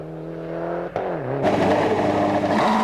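Mitsubishi Group N rally car engine on a 1999 French rally stage, droning steadily, then briefly dipping before surging into a loud, harsh, rising rev with gear changes.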